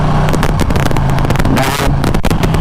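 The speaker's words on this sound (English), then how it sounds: "this quick shifter is something crazy. Like yours goes in like butter. Either up, check it out. Up," A 2020 Ducati Panigale V2 motorcycle upshifting with its quick shifter, loud engine roar with a brief interruption of the revs as the gear clicks in, continuous and close throughout.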